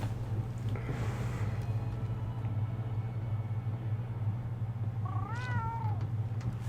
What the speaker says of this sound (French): on a un palico à nous, enfin ce qu'ils appellent un palico. Ce que j'appellerais plutôt un chat.